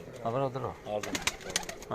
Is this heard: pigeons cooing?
yes